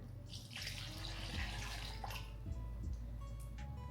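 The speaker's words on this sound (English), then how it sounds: "And now I need 325 grams of like fairly warm water. I'm just gonna dump that in." About 325 grams of fairly warm water is poured into a bowl with sourdough starter, a soft continuous close pour and trickle that runs the whole time without speech.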